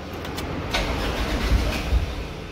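An LPG-converted fuel-injection car with its tank fuel pump disconnected being cranked to start: a steady mid-level mechanical rumble with a few heavier low thumps, no voices.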